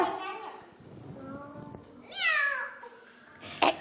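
A child imitates a cat's meow in a scary way, with drawn-out wavering meow-like cries near the start and middle, then a short sharp cry at the end, in a classroom-style setting.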